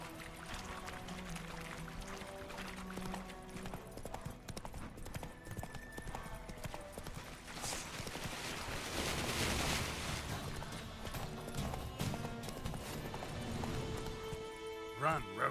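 The horse Roach gallops in The Witcher 3 video game with rapid, rhythmic hoof clip-clops under a voice calling out, plus swelling music and a burst of crowd-like noise midway.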